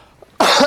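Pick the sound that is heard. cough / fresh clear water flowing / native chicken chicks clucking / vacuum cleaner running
cough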